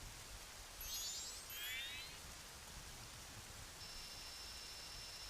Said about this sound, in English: nothing beats a rainy night.